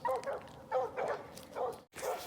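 Hunting dogs on a Maine bobcat hunt bark repeatedly in the distance, a quick run of bursts that sounds faint and outdoors, with no voices.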